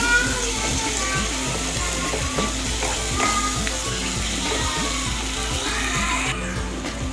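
Spice masala frying in oil in a pan, a dense, loud sizzle with a steady rhythm of spatula scrapes and knocks as it is stirred, close and continuous with no speech.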